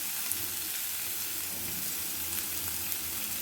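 Ridge gourd peel fries in a little oil in a thick-bottomed pan, producing a steady, even hiss of sizzling that carries on unbroken at moderate volume.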